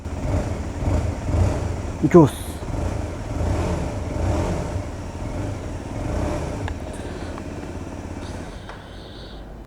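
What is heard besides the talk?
motorcycle engine revving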